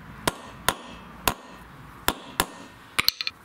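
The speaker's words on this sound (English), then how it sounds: "all you need to do is just go tap the sides of this a bit with your hammer." A hammer taps the sides of a bearing housing on a lawn tractor riding mower, a string of light, sharp metallic strikes at uneven intervals, ending in a quick cluster of smaller taps, close and clear with no talk.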